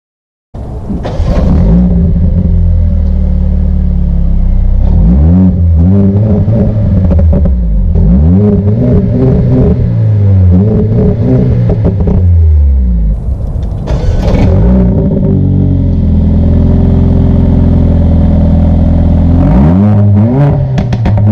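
A Mercedes CLA 45 AMG performance exhaust revs repeatedly, deep rumbling idle rising into several loud throttle blips and sweeping revs, close and booming.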